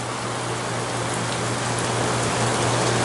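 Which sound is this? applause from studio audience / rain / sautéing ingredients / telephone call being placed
rain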